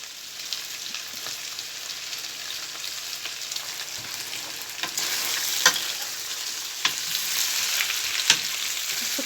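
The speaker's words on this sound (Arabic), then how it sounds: "هديها برده تشويحه حلوه كده" Liver and garlic stir-frying in a pan, a continuous hissing sizzle that grows a little louder over time, punctuated by occasional sharp clinks and scrapes of stirring, no voices.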